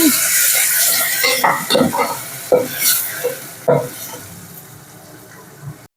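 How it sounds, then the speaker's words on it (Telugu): Ground tomatoes poured into a rasam pan with coriander, then stirred with a spoon; a soft sizzle fades as several distinct scraping and tapping strokes ring out against the pan. "నెక్స్ట్ కోర్సుకు గ్రైండ్ చేసుకున్న టమాటాలను వేసుకోవాలి"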